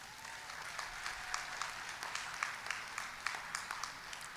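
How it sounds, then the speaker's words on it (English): An audience at a high school graduation ceremony gives a round of applause, a continuous patter of many hands with distinct individual claps poking through, steady and moderately near. "I want to take a moment just to thank them with a round of applause"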